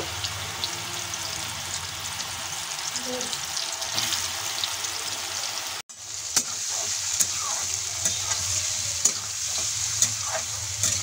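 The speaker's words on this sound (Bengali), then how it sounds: "গরম তেলের মধ্যে এখন আমি মাশরুমগুলো দিয়ে দেব। মাশরুমগুলো আমি একটু ফ্রাই করে নেব।" Mushrooms frying in hot oil over a medium flame, a loud, steady sizzle with stirring scrapes; the hiss briefly drops out midway, then surges back with sharp spits and pops.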